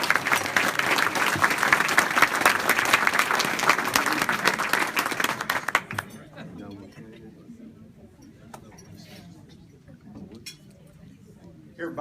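Hall of fame induction crowd applauding loudly and steadily for about six seconds, then cutting off to a quiet room with faint clinks and murmurs.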